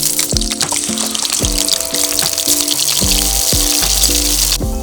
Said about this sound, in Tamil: இப்போ பன்னீரை பொரிக்குவோம்